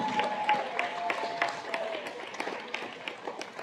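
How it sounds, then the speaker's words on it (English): Audience at a spring graduation ceremony clapping for the class of 2021, moderate crowd applause with individual claps standing out in an uneven rhythm. "let's give another round of applause for the class of 2021."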